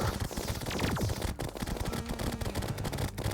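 Rapid gun weapon fire in the video game Terraria, a dense, relentless stream of shots and impacts mixed with game effects, fairly quiet overall and with no talking.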